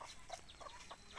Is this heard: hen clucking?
yes